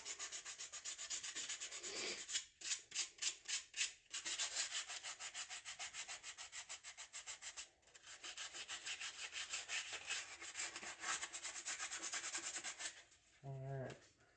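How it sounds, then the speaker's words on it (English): Scraping during engine assembly, a close, rhythmic rasping of repeated back-and-forth strokes, continuous with short pauses, ending in a brief squeaky scrape. "Let's scrape her one more time."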